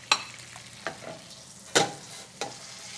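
Crab-stuffed ravioli frying in butter in a pan, a soft steady sizzle broken by a few sharp clinks and scrapes of a utensil, close and fairly quiet with no voices.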